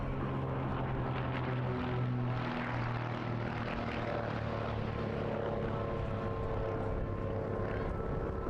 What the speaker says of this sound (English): These are RV4s, without doubt one of the most popular home-built kit aircraft on the planet.